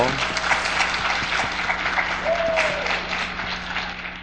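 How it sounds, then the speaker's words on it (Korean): A room full of people at a Christian school admissions information session claps steadily, dense overlapping applause at moderate volume, with a brief whistle-like tone partway through. "박수하겠습니다, 서로."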